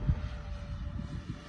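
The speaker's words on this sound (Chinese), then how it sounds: "这款机动力还是很强的。 OS65这发动机。" A methanol nitro balsa-wood model fixed-wing airplane powered by an OS65 engine flies at a distance, giving a faint, steady engine drone with a thin sustained tone and no talking.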